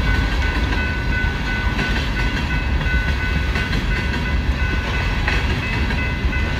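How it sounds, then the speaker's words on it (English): A long BNSF westbound manifest freight train rumbles steadily past a highway crossing in Little Falls, Minnesota, a continuous heavy roar with rhythmic clatter and squealing wheels, loud and close throughout. "This is a fairly long manifest train that seems to never end,"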